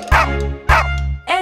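A cartoon dog in a Bingo nursery rhyme song gives two loud, evenly spaced woofs over a sustained low musical tone, followed by the start of another bark-like sound.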